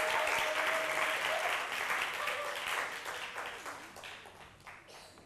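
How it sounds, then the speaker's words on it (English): Round of applause from the audience welcoming a Kumasi school at a UCMAS competition show, dense crowd clapping that starts full and gradually thins and fades, with a few voices near the end. "Let's welcome them with a round of applause."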